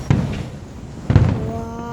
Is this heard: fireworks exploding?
yes